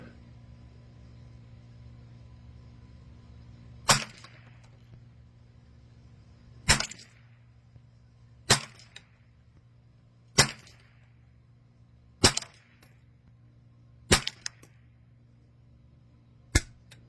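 A Savage 64 .22 semi-automatic rifle fires seven single shots at a target, sharp cracks spaced about two seconds apart over a quiet outdoor background with a low steady hum.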